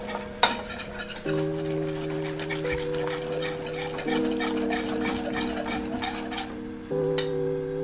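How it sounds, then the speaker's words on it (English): A whisk works roux into a pot of milk for a mornay sauce, giving continuous scraping and stirring with light metallic clinks against the pot, set against a steady humming tone. "And whisk, whisk, whisk."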